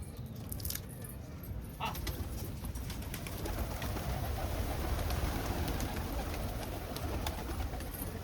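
Pigeons, including fancy breeds, cooing and rustling in a loft, with a soft steady murmur of calls close by and faint background noise throughout.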